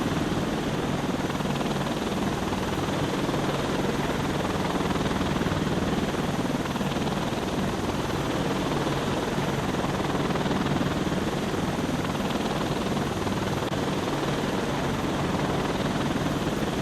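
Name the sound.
helicopter with twin miniguns flying in VR video game Defender Patrol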